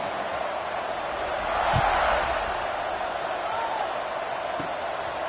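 Stadium crowd noise in an NCAA college football video game, a steady roaring wash of fans that swells briefly into louder cheering, with a commentator talking over it.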